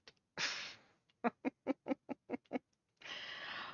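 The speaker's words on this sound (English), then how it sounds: "Somebody has very noisy birds." Noisy backyard chickens squawk in a quick run of about eight sharp, evenly spaced calls, framed by two longer rough, breathy bursts; fairly close and loud, with no talking.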